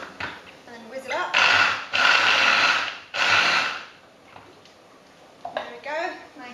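A blender whizzes basil and spring onions in loud, roaring bursts that stop and start, with a brief pause between pulses and a voice talking before and after.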